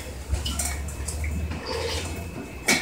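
A cat chews and gnaws on a metal tea kettle indoors, producing faint scraping and light metallic clinks against steady room hum, with a sharper knock near the end.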